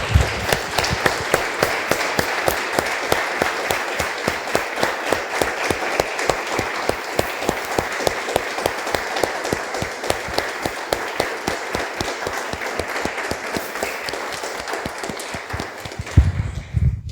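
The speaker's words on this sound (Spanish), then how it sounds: "Damos un aplauso, hermanos, al Señor." Church congregation applauding, a long, dense, rhythmic clapping that holds steady and fairly loud for about sixteen seconds before trailing off with a final burst.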